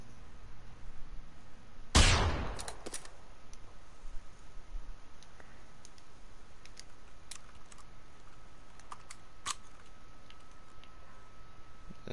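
A single sharp rifle shot in Generation Zero, loud and close, with a ringing tail over quiet ambient game sound and a few faint clicks afterward.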